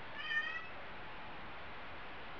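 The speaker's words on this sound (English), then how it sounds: "Where's the cat?" A cat gives a single faint meow indoors, a short rising call near the start, followed by a quiet, steady room background.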